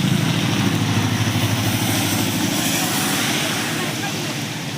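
A motorcycle towing a farm trolley fitted with planks and a metal sheet, engine droning steadily and loud at close range, low rumble throughout with a voice talking over it.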